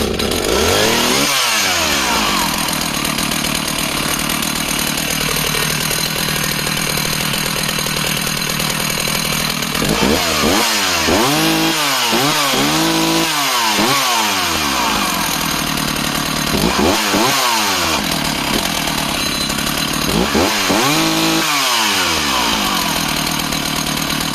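A 1970s chainsaw, one of a Husqvarna 162SE, Rancher 61 or Stihl 04, is revved several times in loud bursts, dropping back each time to a steady idle, close by with no talking.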